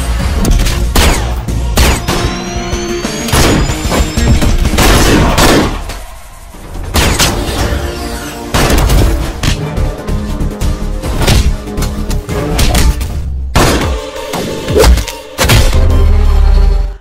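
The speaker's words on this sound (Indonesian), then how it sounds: "Mereka baku tembak dan saling serang." Gunfire is exchanged in an action film, with loud, dense volleys of shots, booms and crashes packed closely together and continuing almost without pause over a rumbling score.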